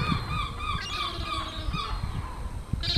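Gulls call on an early morning seafront in Folkestone, an adult with two young birds, giving repeated close honking, squealing cries with a faint whine of begging chicks, and no one speaking.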